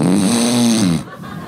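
A comedian on a stand-up stage imitates loud snoring with one long, rasping drawn-out snore close to the microphone, which then cuts off into quiet.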